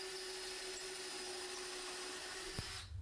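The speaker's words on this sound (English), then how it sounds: "Then I make the holes for the threaded rods." A drill boring holes for threaded rods that will hold invisible brackets for a floating shelf, a steady close whine for nearly three seconds before cutting off, heard alone.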